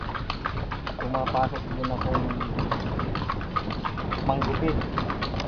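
Horse hooves clip-clop in a steady walking rhythm close by, running continuously beneath a man's ongoing conversation.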